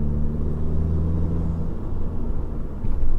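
A manual transmission car's engine hums steadily from inside the cabin, then its tone drops away midway through a clutchless downshift, leaving a rougher rumble before the revs swell again at the end.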